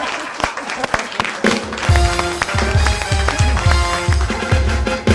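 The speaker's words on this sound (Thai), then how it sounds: "ปรบมือดัง ๆ ต้อนรับกับ นักร้อง" Audience applause welcoming a singer onto the stage at a live Thai comedy and music show, starting scattered and swelling into loud, sustained clapping with rhythmic percussive hits from about two seconds on.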